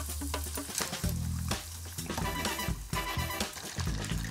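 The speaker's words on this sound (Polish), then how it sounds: "czekam aż trochę odcieknie i smażę je w rozgrzanym oleju." Battered chicken drumsticks sizzle and crackle loudly in hot oil, with bursts of spattering and a few stirring clunks, close up and continuous.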